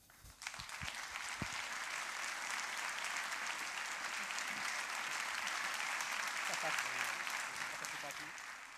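An audience at a literary event applauds the writer Valter Hugo Mãe, the clapping swelling in after a brief opening and holding as a full, sustained wash.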